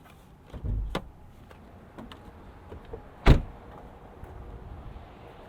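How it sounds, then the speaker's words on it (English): Hood release of a 2014 Volkswagen Tiguan S 4Motion with its 2-liter turbo four-cylinder: a low thump and soft clunks, then one sharp, close latch pop in the middle of the short clip before quiet rustling. "Go ahead and pop the hood here."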